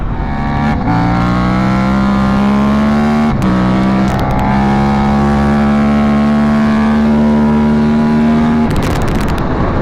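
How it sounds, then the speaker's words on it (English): A motorcycle engine holds a steady, droning pitch at speed, with a constant rush of wind noise over it and a brief gust near the end. "That's pretty impressive to hear some wind noise at that speed"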